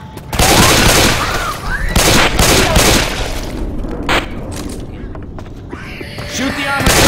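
Left 4 Dead gunfire: loud, crackling bursts of shots and booms through the first few seconds, then fading to scattered hits under shouting voices and game noise.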